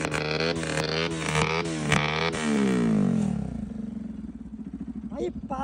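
A motorcycle with a loud aftermarket exhaust idling while standing still, blipped through several quick revs and then a longer rev that falls back to a lumpy, pulsing idle, heard close up.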